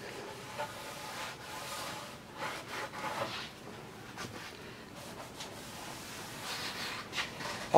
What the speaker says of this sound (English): So you're gonna have to wipe the edges again because of that little bit that's going over the edges.